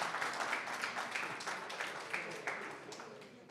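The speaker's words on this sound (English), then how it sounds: "If we can just do a round of applause for our drummers, please." Symposium audience claps for the opening drummers, a brief round of applause with distinct individual claps over a room murmur, tapering off as it goes.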